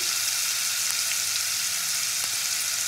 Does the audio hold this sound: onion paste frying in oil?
yes